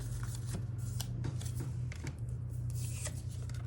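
Tarot cards being shuffled and handled up close, soft papery riffles and slaps in quick irregular bursts over a steady low hum.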